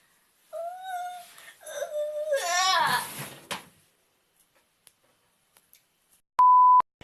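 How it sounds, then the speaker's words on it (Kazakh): A phone gives one loud, sustained electronic beep near the end, after a stretch of a voice whining, sighing and fussing, then several seconds of near silence. "О, телефон."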